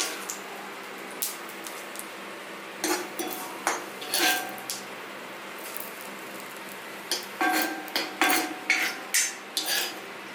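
Fried mustard seeds being stirred into a ground banana flower chutney, heard as repeated clinks and scrapes of a spoon against a dish in short bursts, fairly close.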